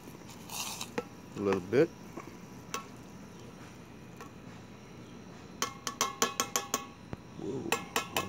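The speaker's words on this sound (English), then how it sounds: "Take our military spoon here. We're just gonna stir it up" A military spoon stirs a camp meal in a metal container, making faint scraping and a run of quick light clinks and taps near the end, with brief speech in between.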